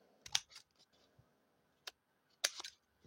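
Scissors cutting paper for scrapbooking give a few crisp, close snips: a quick pair at first, a lone cut in the middle, then another short cluster, with quiet pauses between.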